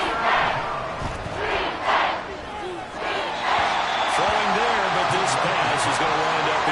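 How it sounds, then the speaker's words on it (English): Video game football stadium crowd roaring steadily throughout a 3rd-down play, a loud continuous wash of cheering with surges, with commentary voices talking over it. "this crowd doing their best to make a lot of racket"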